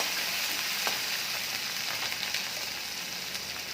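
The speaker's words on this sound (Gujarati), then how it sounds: "બધું તેને ચમચીની મદદથી આપણે મિક્સ કરી લેશું સરખું" Green chillies and tomatoes sizzle in hot oil for vaghareli rotli as a spoon stirs them, producing a constant close frying hiss broken by occasional light clicks and scrapes.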